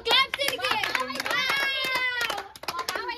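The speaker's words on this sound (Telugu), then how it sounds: "క్లాప్స్" Several people play a family game indoors, clapping their hands in sharp, close bursts mixed with a child's and adults' excited voices talking and calling out throughout.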